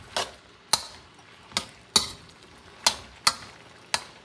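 A spatula works ingredients with a pinch of sesame oil around a hot carbon steel wok, landing about seven sharp, close metallic clanks at uneven intervals over a faint background hiss.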